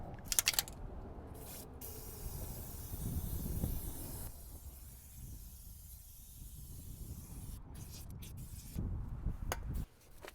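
Wax rust protection sprays under a Tesla Model 3 in several hissing bursts of varying length, close by, with quieter gaps and faint clicks between them.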